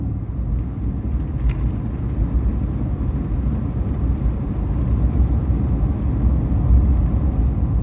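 Steady low road rumble from inside a car driving away from an eclipse site toward the Gila Wilderness in New Mexico, a continuous engine and tire drone with no talking.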